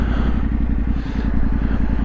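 A heavy motorcycle rides a trail through deep bracken, its engine a steady close throbbing drone with a fast rhythmic pulse and light clatter, loud and continuous.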